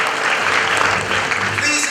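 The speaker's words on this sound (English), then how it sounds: "Please, a round of applause for him." Round of applause from the audience at a graduation ceremony attended by the Asantehene: loud, continuous crowd clapping with a voice faintly audible underneath.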